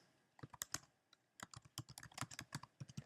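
Someone types a search query on a computer keyboard, a quick irregular run of crisp, close key clicks with short pauses between them, and no voices.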